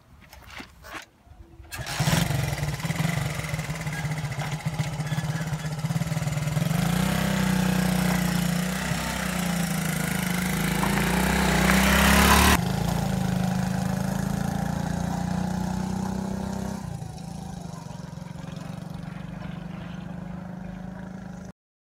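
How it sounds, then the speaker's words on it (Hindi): A motorcycle engine sputters to life after a brief crank, then settles into a steady, throbbing idle close by. The engine swells louder midway, drops back to a calmer idle, and finally shuts off. "आए बस आप बाइक स्टार्ट करें"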